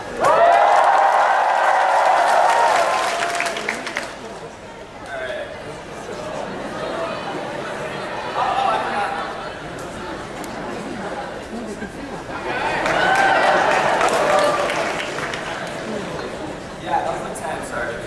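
A graduating class and audience in a high school auditorium cheer and clap in two loud swells with a chattering lull between them, while a speaker's voice comes through in between.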